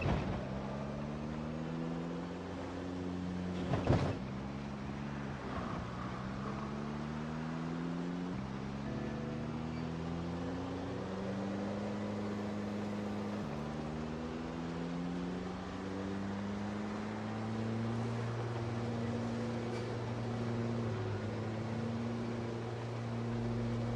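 Engines of a vehicle in a video game drone steadily in repeating stepped cycles of rising and falling pitch, fairly faint, with a couple of brief sharp clicks partway through.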